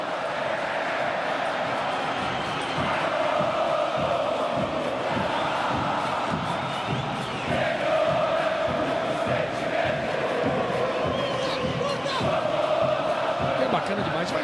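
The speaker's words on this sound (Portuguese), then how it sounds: "Faz barulho, canta bonito a torcida do Grêmio." Grêmio football supporters fill a stadium during a Grenal derby against Internacional, a dense continuous crowd roar with chanting and singing carried throughout, loud and steady with swells, distant commentary-like voices faintly mixed in.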